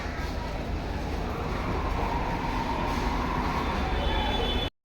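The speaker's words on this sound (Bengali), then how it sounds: "আমরা হাওড়া ময়দান থেকে এবার মেট্রো ধরবো" A Kolkata metro train at Howrah Maidan underground station, a loud continuous rumble and roar of the carriages running on the rails, steady throughout and close by, ending in an abrupt cut.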